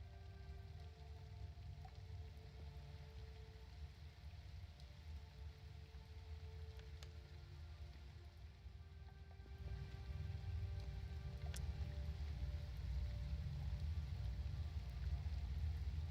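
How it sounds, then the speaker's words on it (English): Steady rain falls on a peaceful night, a continuous wash of drops on surfaces that grows somewhat heavier in the second half, with no voices. "And of course, it's raining today."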